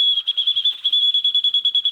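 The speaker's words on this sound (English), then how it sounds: "Emergency fork with a last minute bear whistle." A small emergency bear whistle is blown in rapid, regular pulses, a shrill piercing trill that carries steadily and loudly on its own.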